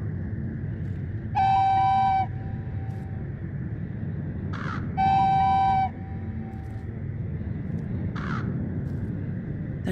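Crows caw in the horror video game Sylvio, two separate bursts of harsh, tonal calls a few seconds apart, each followed by a shorter echoing cry, over a steady low ambient drone.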